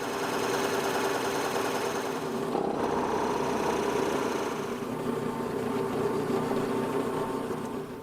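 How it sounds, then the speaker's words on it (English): Continuous steady whir of a drill boring a 3-inch deep hole into a wooden blank for a dice cup, droning evenly for several seconds with a slight shift in tone partway through. "now I'm going to drill a 3-inch deep hole from this surface down"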